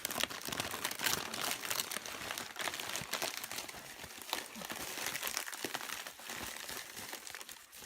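Wrapping paper on a toy gift crinkles and tears in a busy, continuous stream of rustling and ripping, close by, with bursts of sharper crackles throughout.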